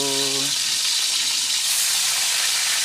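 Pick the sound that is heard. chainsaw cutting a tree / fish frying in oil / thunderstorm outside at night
fish frying in oil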